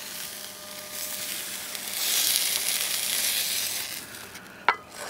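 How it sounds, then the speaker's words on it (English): Cooked fajita meat sizzles in a pan, a soft, even hiss that swells slightly midway, ending with a single sharp clink or scrape near the close. "You hear that sizzle."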